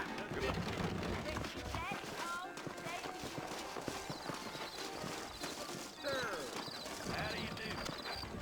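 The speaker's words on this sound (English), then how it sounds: "I got the horses saddled up and ready out front." Horse hooves clip-clop steadily in Red Dead Redemption beneath voices talking and a busy mix of background sound.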